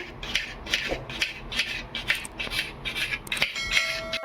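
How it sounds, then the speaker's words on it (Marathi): A knife finely chops onion on a board, about a dozen sharp taps at a steady, brisk pace, close and clear with no talking. "आता आपण बारीक कांदा कापतोय"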